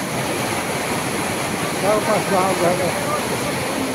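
Steady rushing floodwater roars continuously, with voices talking briefly over it.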